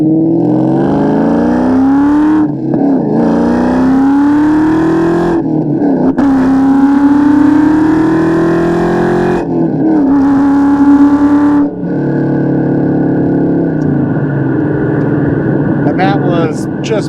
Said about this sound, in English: The Bassani mufflers sound really good on these cars too.